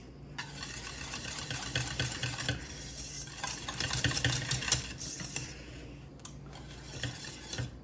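A spoon scrapes and clinks steadily around a pot of thickening banana cream filling, a faint, continuous stirring rattle with a soft background hum and no talking.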